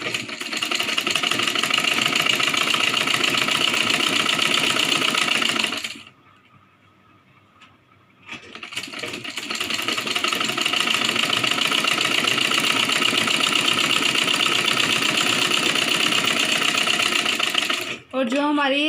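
A sewing machine runs continuously, stitching fabric for a Rajputi kanchali blouse, with a loud steady whir that stops briefly around the middle before starting again.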